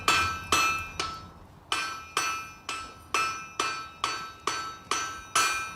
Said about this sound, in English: We need to get on the side of the anvil, hammer half on, half off, and hammer it down.